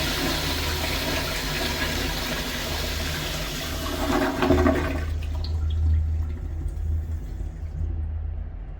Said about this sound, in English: Now let's get to a flush.